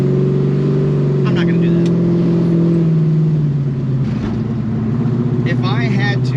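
A 1970 Chevelle SS with a 632ci big-block V8 pulls hard and steps through its gears, the engine's deep drone dropping in pitch at each shift, with someone talking over it and a passenger briefly calling out.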